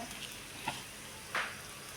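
Fenugreek and asafoetida powder roasting in a pan on a low flame gives a faint, steady sizzle with a couple of small crackles, and no one speaks.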